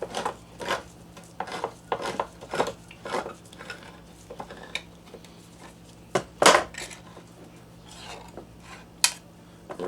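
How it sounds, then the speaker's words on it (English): Manual can opener cranking open two cans of Muir Glen fire-roasted diced potatoes in a kitchen, with a series of close metallic clicks, scrapes and taps at an uneven pace, followed by a sharp louder clank. "Let's see how well this can opener works."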